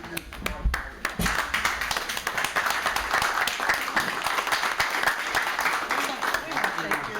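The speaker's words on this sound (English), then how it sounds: "Let's give her a big round of applause." A standing audience gives a big round of applause, with dense, brisk clapping that fills the room at a steady level throughout and sharp individual claps close by, while voices are faintly mixed in.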